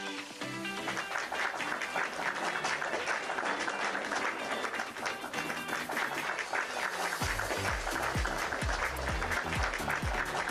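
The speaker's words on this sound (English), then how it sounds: "let's give applause for the amazing session" Applause from a conference audience at the close of a session, a broad wash of clapping with musical tones running beneath it, moderately loud and steady.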